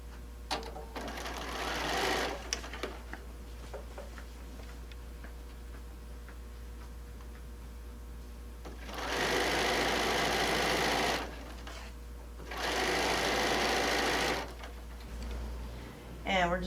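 A domestic sewing machine stitches a quilt-as-you-go sewing machine cover in three rapid whirring runs, each a few seconds long with pauses between. A soft voice talks in the quiet stretches and a low steady hum sits underneath.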